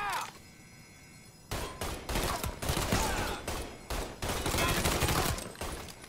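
Mafia 3 gunfire: after a quiet opening, loud, close bursts of shots ring out in rapid clusters separated by brief pauses, continuing to the end.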